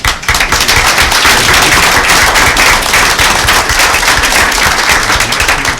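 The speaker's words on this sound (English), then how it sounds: "So I'd like to just everybody give each other an applause for." A loud, dense round of audience applause fills a school board meeting room, many hands clapping continuously and evenly with no talk over it.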